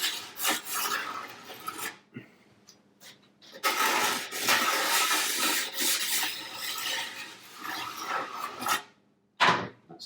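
A wet stone rubbed along the metal edges of a snowboard to take off burrs, close, gritty rasping strokes in bursts of varying length with short pauses between them.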